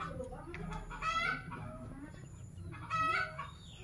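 Mixed-breed chickens, native kampung birds crossed with other stock about four months old, cluck in a farm coop with two short bursts of crowing, moderately close over a low background hum.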